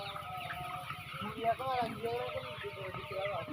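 A big flock of chickens in a large two-shed poultry farm clucks continuously, with distinct louder squawks and calls standing out near the middle over a constant barnyard din; a voice can be heard talking.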